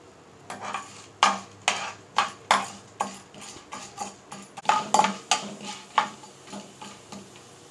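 Chana dal and urad dal frying in oil in a kadai, stirred with a steady rhythm of repeated clinks and scrapes of a spoon against the metal pan, close up, no talk.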